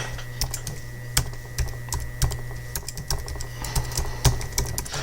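Close computer keyboard typing of a file name: a quick irregular run of crisp key clicks with short pauses between bursts, over a faint steady background hum.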